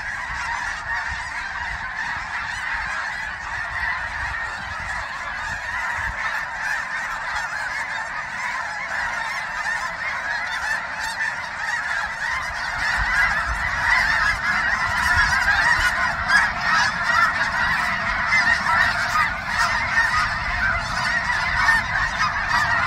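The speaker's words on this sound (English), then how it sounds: "Check out those snow geese." A large flock of snow geese honks at a wildlife refuge, a dense, continuous chorus of overlapping calls that grows a little louder in the second half, with no talking.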